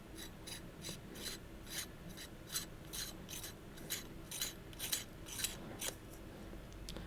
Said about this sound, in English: You have to unscrew this pommel section right here.